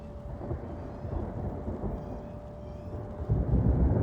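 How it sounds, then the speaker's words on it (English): Thunder rolls through a thunderstorm in the storm-chasing video game Outbrk, a low continuous rumble under rain that swells louder near the end, with no talking. "During the thunderstorm, there's a very small chance every time thunder rolls that it could be the Easter egg thunder."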